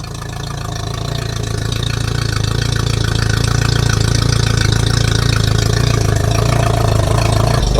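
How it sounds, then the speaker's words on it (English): A Mercury 60 FourStroke outboard engine idles on a water feed, a steady close mechanical drone with a low even pulse, growing slightly louder as it settles, no voices. "I've just fired up the outboard."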